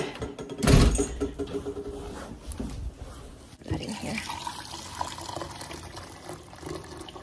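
Hot water pours from a tap into a sink, a steady splashing rush near the microphone, with a clunk near the start and voices talking over it.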